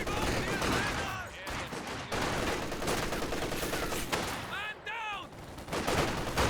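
Machine guns rattle in dense, continuous bursts during a Company of Heroes 2 battle, loud and sustained with overlapping fire, explosions and whistling ricochet-like sweeps, with no talking.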